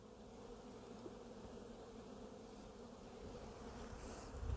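A steady, dense buzz of many honeybees collecting pollen, close and continuous, with no voices.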